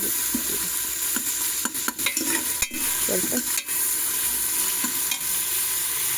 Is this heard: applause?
no